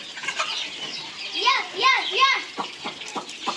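Chickens cluck and squawk close by as they gather when called, mixed with a voice calling out over them.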